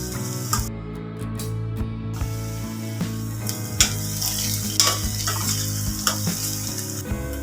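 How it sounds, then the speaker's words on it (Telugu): Steady sizzling of food frying in a pan, with occasional stirring scrapes and clinks, close and continuous with no voices. "ఈ విధంగా గోల్డెన్ షేడ్ వచ్చే వరకు వేయించుకోవాలి"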